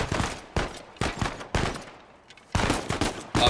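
Pistol gunfire in the Uncharted 4 video game, five or six sharp, loud shots spaced about half a second apart, each with a short decaying tail and a brief lull midway.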